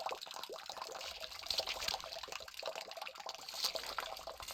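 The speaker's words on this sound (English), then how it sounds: "As if accompanying the loud bubbling sound, the dull squish of a blade cutting into flesh was also faintly audible." Loud bubbling and pouring water in a horror game, continuous gurgling and splashing with occasional drips, steady and fairly close, alone without talk.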